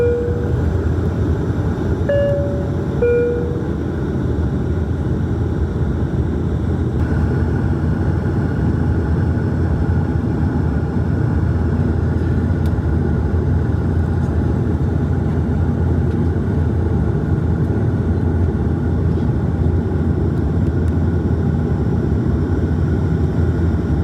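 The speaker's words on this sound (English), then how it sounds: "you're stuck with the Q400 aircraft regardless, which means a lot of noise and a lot of vibration." Inside the cabin of a Bombardier Dash Q400 turboprop of Air Canada Express, a constant loud low drone with vibration, a few faint tones and clicks briefly showing above it.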